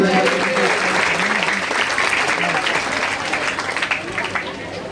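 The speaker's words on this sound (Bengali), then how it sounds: "আর একবার জোরে করতালি দেবো" A crowd at a village health-centre honouring ceremony claps steadily throughout, dense and continuous applause close by, with a voice briefly audible under the clapping early on.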